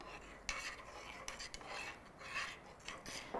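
A spoon stirs a honey drink in a cup, giving soft, faint clinks and scraping swirls in an irregular rhythm, close and quiet, with no talking.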